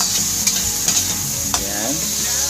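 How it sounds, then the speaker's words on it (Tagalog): Ground pork sautés in hot oil, giving a steady, close sizzle broken by a few sharp scrapes and knocks of a spatula stirring the meat in the pan. "I-saute lang natin ito guys para medyo ramdam yung kanyang mantika"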